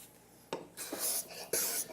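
Cabinet scraper shaving a wooden tabletop surface makes two or three short, close, raspy scraping strokes, each a crisp hissing swipe across the wood.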